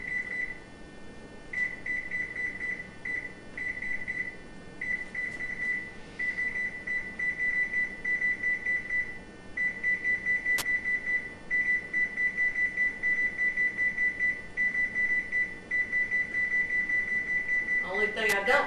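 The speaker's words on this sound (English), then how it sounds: "So I love my timer now that" A digital kitchen timer beeps in a long steady run of repeated tones, close and fairly loud, with only brief pauses, while baking a mincemeat cake.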